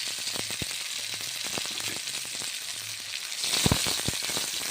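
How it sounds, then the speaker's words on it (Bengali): Ground spices, cumin paste among them, sizzle loudly as they are stir-fried in a kadai. A spatula scrapes and taps against the pan at irregular moments, and the frying swells briefly near the end. "1 মিনিট নেড়ে চেড়ে ভেজে নিচ্ছি"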